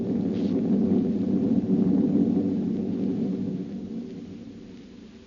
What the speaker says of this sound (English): Through the thunder crash I heard her.